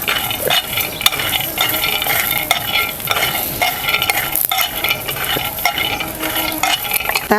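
Peanuts roast in a dry pan, rattling and scraping in a continuous rhythm as they are stirred, with soft sizzling underneath throughout.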